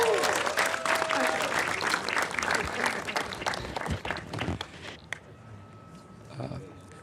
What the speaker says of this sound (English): we want to be able to give a big round of applause to our public defender, Manu Raj.